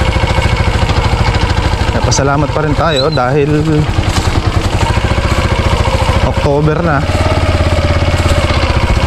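A pump machine engine runs loud and close at a flooded gourd farm, a steady pulsing drone throughout while someone talks over it.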